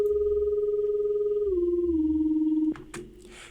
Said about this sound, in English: It's this sine wave that's got a lot of LFO moving very fast on the volume to give it that fluttering sound.